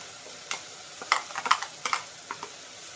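Ground masala being added and stirred into vegetable pulao in a pan, sharp scraping and clinking strokes in irregular bursts over a low sizzle, close and fairly loud.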